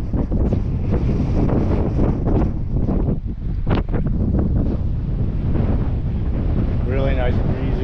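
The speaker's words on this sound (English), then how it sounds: "Really nice and breezy." Steady, breezy wind buffeting a microphone on the coast of St. Bart's in the Caribbean, a constant rushing roar with a voice briefly audible near the end.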